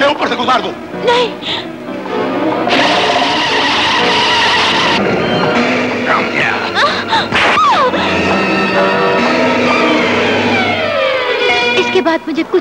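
A car drives hard and skids with screeching tires in a dramatic 1985 feature-film scene. The noise is loud and sustained over about twelve seconds, mixed with raised voices and other dense background sound.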